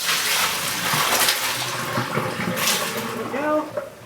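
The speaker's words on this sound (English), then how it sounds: "I'm just going to pour it all in." An alum and cream of tartar mordant bath is poured from a pot through a big strainer into a sink, a steady close splashing gush with a voice talking over it.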